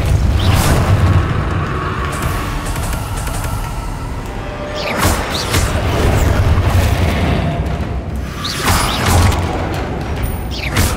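Repulso spell blasts in Hogwarts Legacy, a run of loud booming magical bursts with rumbling mechanical impacts, recurring every few seconds over a dense, continuous game soundscape.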